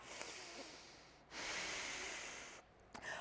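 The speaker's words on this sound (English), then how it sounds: "Big breath in and out." Deep, slow breathing during a yoga flow: a long breath is drawn in and then released in a soft, airy rush, close but faint, with a quick snort-like sniff near the end and no talking.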